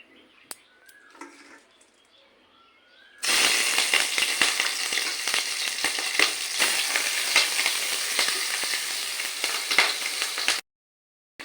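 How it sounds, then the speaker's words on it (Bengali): Prawns dropped into hot oil in a kadai burst into a loud, dense sizzle that holds steady for several seconds, then cuts off abruptly, after a quieter lead-in with faint chirps. "এবার আমি চিংড়ি মাছগুলোকে ভেজে নেব।"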